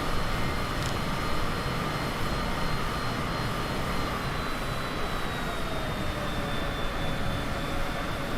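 Airplane engine in Microsoft Flight Simulator 2020 drones in a loud, continuous broadband roar with a faint steady whine above it, unbroken throughout and without speech.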